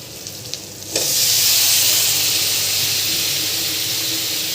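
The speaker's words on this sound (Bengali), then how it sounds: "এখন আমরা আলুটা দিয়ে সিম দিয়ে কষিয়ে নেব" Potatoes and flat beans hitting hot oil in a pan, bursting into a loud, steady sizzle after a couple of light clinks, then frying continuously close by.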